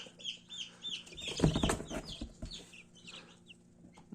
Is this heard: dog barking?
no